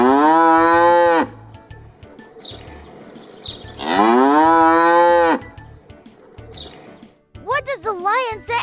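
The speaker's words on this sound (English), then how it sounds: "Yes, it is a cow sound. Cows moo to communicate with their herd." A cow gives two long, loud moos separated by a quiet pause, followed by a brief burst of high chirping calls at the end.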